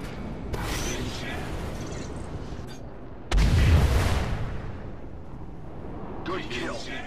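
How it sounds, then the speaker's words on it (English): A missile launches in the space combat game Star Citizen with a sudden heavy boom and a loud roaring whoosh that slowly fades, set in continuous engine rumble and sharp effects. "Fire missile."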